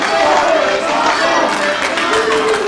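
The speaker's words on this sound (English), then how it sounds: "And you can hear the crowd pleasure" A pro wrestling show crowd roars and cheers loudly and continuously, a dense wall of shouting voices filling the arena.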